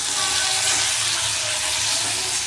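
Thinly sliced eggplant and ripe tomato with salt and turmeric frying in a wok over black cumin seasoning, a dense steady sizzle filling the whole stretch, close and loud with no pauses.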